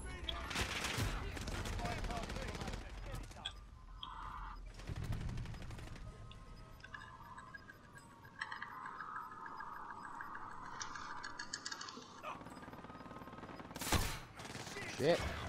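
Gunfire in Call of Duty: Modern Warfare, with several bursts of shots scattered throughout, some loud and close, others farther off, between stretches of quieter game noise and mechanical sounds.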